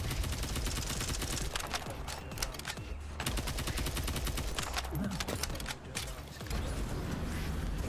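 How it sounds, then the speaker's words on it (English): Rapid automatic weapon fire from The First Descendant video game, a dense, steady rattle of shots with mechanical clicks running nearly unbroken for several seconds, loud and close, with brief gaps. "I like the sound of this weapon."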